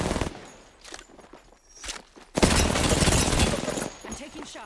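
Gunfire in the Apex Legends video game, scattered shots and then a long, loud burst of rapid automatic fire, with a player talking over parts of it.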